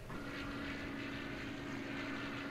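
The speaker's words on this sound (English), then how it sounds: "There we go, there's a plane." Propeller aircraft in the submarine game Silent Hunter IV, a steady droning engine hum with a sustained tonal whine, fairly faint and continuous with no talking.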